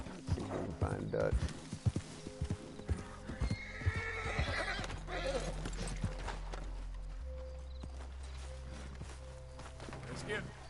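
In the open-world game Red Dead Redemption 2, a horse whinnies and snorts while its hooves clip-clop in an uneven walking rhythm, fairly close, later settling under a low steady ambient hum.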